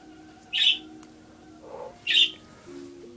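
Pet birds in an art studio let out two loud, sharp squawks about a second and a half apart, close by, with softer chirps and a faint background hum between them.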